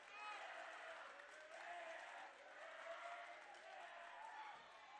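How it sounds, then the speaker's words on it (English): Crowd at a boys' high school basketball game against East Grand Forks claps steadily after a free throw, a broad even wash of applause holding across the gym without a clear break. "And the claps come in"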